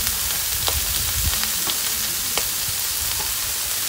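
Spring onion, celery and carrot stir-fry in a hot pan for fried rice vermicelli, making a constant close sizzle broken by sharp spatula scrapes and clicks.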